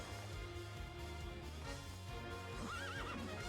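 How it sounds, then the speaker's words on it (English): A horse in the Hyrule Warriors video game neighs and trots over steady background music, with a rising whinny near the end, faint overall. "Realistic horse."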